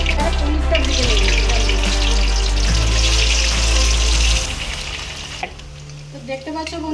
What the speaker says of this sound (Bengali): এবার পনিরটা ভেজে নেবে।